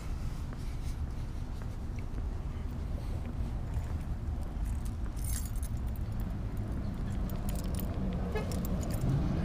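Keys jangle and rattle close by as a car is locked in the open, with faint traffic or wind rumble underneath and no talking.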